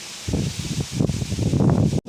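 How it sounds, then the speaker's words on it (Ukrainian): Gusty wind buffets the microphone in uneven low rumbling bursts, loud and close, cutting off briefly near the end. "а зараз дуже вітряно і так холодно"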